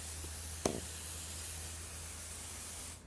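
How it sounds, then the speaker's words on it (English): A single short burst of cleaning spray aimed at an SK 150 knitting machine, a sharp hiss near the start that trails off over a faint, steady background hum. "But you can hear the force of the spray."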